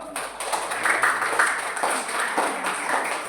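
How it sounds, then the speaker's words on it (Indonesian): A school class claps together for a few seconds, a steady, slightly ragged burst of hand claps in a classroom with some background murmur. "yuk kita tepuk tangan terlebih dahulu yuk"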